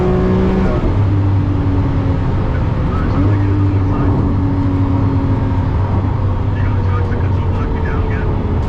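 A Lamborghini LP640 at a drag race against a Tesla Model Y Performance, its engine a loud, sustained, close roar rising through the gears, with a person talking over it.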